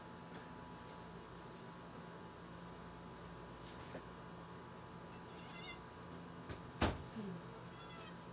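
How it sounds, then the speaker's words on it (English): A cat meows near a closed door, wanting to be let into the room, in a few faint, distant cries over steady room hum, followed by a sharper knock or bump. "There's a cat who's demanding to get in this room."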